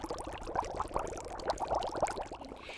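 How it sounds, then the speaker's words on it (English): Three tablespoons of flax seeds boil in a pot of water, giving a continuous close bubbling and popping as the liquid turns foamy. "you just kind of like boil them until they get sort of foamy and white"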